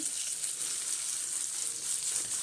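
Finely chopped tomato frying in a pan for a Bangude (mackerel) fish dish, a steady soft sizzle with faint crackle running throughout at a moderate, even level, no voices.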